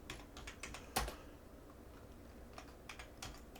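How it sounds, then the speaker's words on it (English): Keys clack on a computer keyboard as a short line of text is entered, a close run of light, uneven taps with one louder keystroke near the start and no talking. "I'm going to type in my text."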